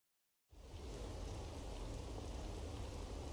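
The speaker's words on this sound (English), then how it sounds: "It's raining." Rain falling in Persona 5, starting abruptly after a moment of silence and continuing as an even, steady hiss with no voices.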